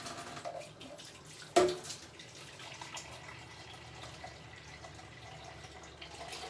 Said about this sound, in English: I got a water filtration system, so I'm gonna be using that.